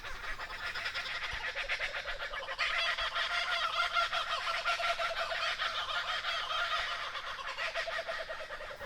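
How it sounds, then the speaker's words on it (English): A raucous, continuous chorus of kookaburra laughter, loud and layered, rising in intensity partway through with no talking. "of Kookaburra laughing"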